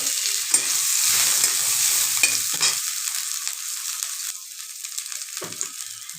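Chopped ginger frying in hot oil for fried rice, a bright, steady sizzle with occasional stirring scrapes, loud at first and easing slightly later on.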